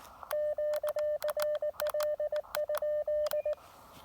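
Morse code sidetone from an Elecraft KX2 radio on 20 meters CW, a clean steady tone keyed in quick dots and dashes for about three seconds over faint background hiss, with no speech.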